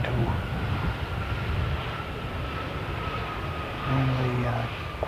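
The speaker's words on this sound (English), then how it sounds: "That is very daintily put down by a Qantas pilot" Qantas airliner touching down gently on a runway and rolling long, a broad steady roar of engines and wheels heard from a distance, with faint tonal whine and a low rumble swelling near the end.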